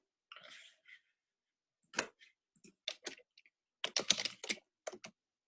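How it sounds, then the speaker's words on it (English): Keys tapped on a computer keyboard during a live 8th grade lesson, in scattered quick bursts of clicks with short pauses between them, close and fairly quiet, with no talking over it. "Somebody's typing one."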